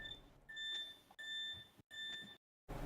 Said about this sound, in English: No, that's just the alarm for someone to get buzzed in.